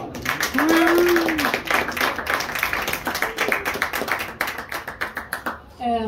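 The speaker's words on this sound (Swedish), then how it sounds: "De kan ju få en fin applåd." Audience at a seminar panel at a Göteborg festival applauding the guests, a burst of many hands clapping that thins into scattered claps, with a brief voice over the start.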